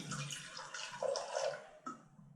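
Vinegar pours from a bottle into a kitchen measuring cup in a short, close liquid gurgle and splash that trails off, with no talk.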